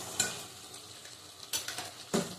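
Yogurt- and salt-marinated meat drops into hot oil in a pan for chicken kosha, a close sizzle and fry with a few scraping stirs, no talking.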